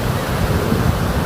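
River water rushing and tumbling over rocks, a steady, broad roar of flowing current heard close up and alone, with no talk over it.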